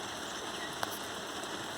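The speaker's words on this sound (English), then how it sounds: "it is currently raining" Spring rain falls steadily on a chicken run, a soft, even hiss of drops with one faint tap standing out, and no talking.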